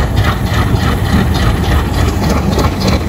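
A Pakistan Railways train locomotive engine idles with a loud, steady, low rumble that stays constant and close, with no talking over it.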